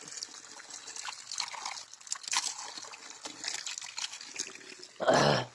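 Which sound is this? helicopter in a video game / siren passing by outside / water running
water running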